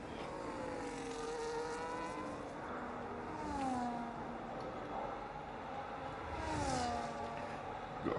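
Race car engine heard onboard during a lap of the Spain circuit in a racing video game, a continuous high whine rising and falling through gear changes and revs, steady and close throughout.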